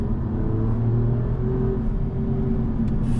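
An Alfa Romeo Quadrifoglio engine drones and revs steadily from inside the car, with a low exhaust rumble, a few pops and crackles, and no talking.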